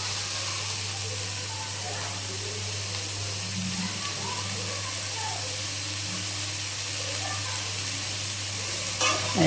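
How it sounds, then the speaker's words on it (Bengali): Soybeans fry in a pan with a steady, close sizzle and hiss, and now and then a stir scrapes through it. "একটু হালকা করে সয়াবিনগুলো ভেজে নেব।"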